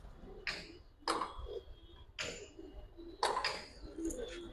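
Giribaz pigeons coo in a small loft collection, several soft repeated calls a second or so apart, close and fairly quiet with faint background clatter and no speech.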